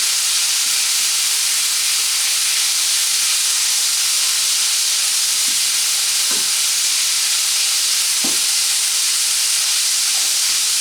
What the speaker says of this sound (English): You have to do this now until the beef is all brown